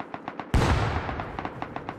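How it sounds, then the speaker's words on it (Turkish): A thrown bomb detonates in the survival game Rust: a sudden, loud, close blast with a long noisy tail, preceded by a few soft rhythmic thuds. "Bomba atılıyor."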